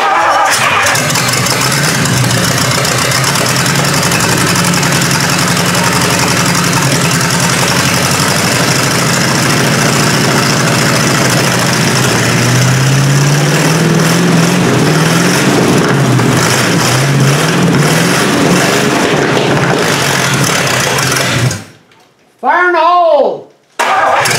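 A 1953 Hemi engine cranks and fires, then runs steadily and loudly for a long stretch with rough, uneven revs, people talking over it, before cutting off near the end.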